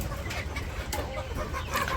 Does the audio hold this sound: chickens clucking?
yes